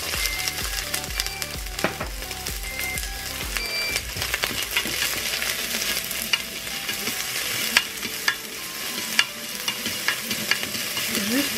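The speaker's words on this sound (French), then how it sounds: "mon huile est bien chaude, je vais pouvoir, voilà, justement, au pile poil, je vais mettre mes oignons." Onions hit hot oil in a Cookeo multicooker and sizzle loudly and steadily, with a utensil stirring and scraping at the bottom of the pot and occasional sharp taps, no talking.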